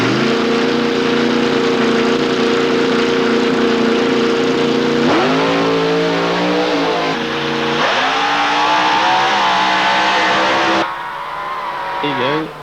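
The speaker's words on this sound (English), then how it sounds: "You'll hear the pedal clutch, you'll hear the revs come up in his car, and then he'll drop the clutch" A 1990 drag racing car at an Australian strip revs loudly in rising harmonic sweeps, holds steady, then drops the clutch with a sharp surge of engine roar; a commentator talks over it throughout.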